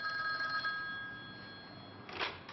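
A telephone rings indoors with a steady electronic trill that fades out, followed by a brief rustling clatter as the receiver is picked up; the ring is fairly quiet and heard alone.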